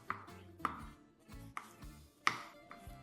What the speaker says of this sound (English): Start with the tomatoes. Cut them into wedges or large bite-sized pieces.